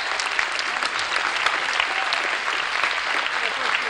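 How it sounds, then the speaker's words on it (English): A large convention crowd at the Midwest Furfest 2019 closing ceremony applauds steadily and loudly, dense clapping filling the hall with a few cheers mixed in. "Everyone, give yourselves a round of applause if this is your first year at Midwest Furfest."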